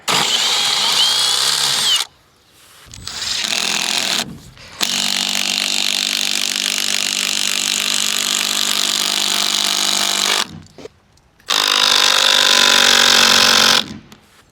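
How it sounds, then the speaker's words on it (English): A power drill with its largest bit whirs loudly in several long bursts, enlarging a hole while building an under-deck shed, stopping briefly between runs, with a grinding tone as it bores into material. "even though this drill bit's the biggest drill bit I have, it's still not quite big enough"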